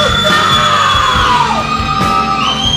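Wrestling crowd at a ProSouth Wrestling event in Piedmont yelling and whooping, a loud, sustained roar of many voices filling the whole stretch with no break.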